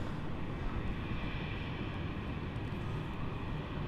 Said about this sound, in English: there's going to be QF 500 coming in from Sydney